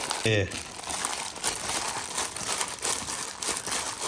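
Plastic bags and rubber gloves crinkle and rustle steadily while preparing a Lao-style vegetable dip, with a brief voice near the start.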